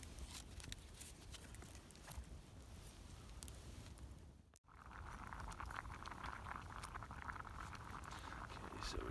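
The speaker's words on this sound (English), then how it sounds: "So we've got a nice rolling boil there." Water at a rolling boil for rice bubbles and patters steadily in a pot at a winter campsite, a soft continuous churning that briefly drops out for a moment midway.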